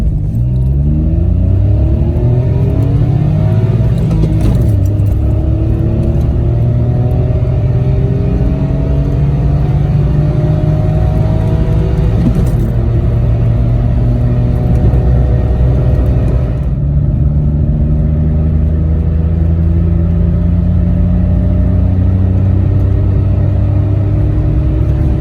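A Citroen C1 engine fitted with Yaris injectors idles unevenly, with a steady low rumble and wavering harmonic tones that drift up and down. A couple of brief knocks break through, and no one speaks.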